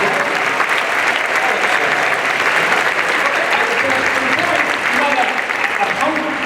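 Large convention crowd at a comic con applauding Stan Lee, a loud, sustained wash of clapping from many hands with a few voices mixed in.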